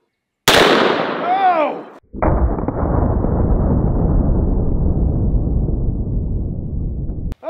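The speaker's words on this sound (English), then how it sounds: "We're gonna take one more shot. Okay, shot number 2." A .500 Magnum shot strikes fiberglass body armor with one sharp, loud blast outdoors. A brief exclamation follows, then a long rushing roar that slowly fades.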